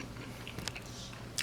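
Someone bites into a crunchy crispy-cheese baby back rib taco, with a brief crisp crunch and soft chewing up close, then another sharp crackle at the end.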